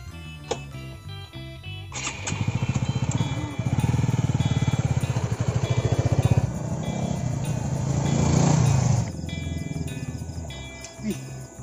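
Motorcycle engine running close by, a steady low chugging idle that swells louder for several seconds before settling, with background clicks and a voice or two nearby.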